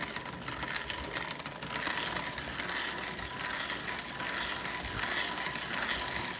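A lidded cream whipper turns steadily as cream is whipped inside, giving a continuous mechanical whirring and rattling hum with no talk.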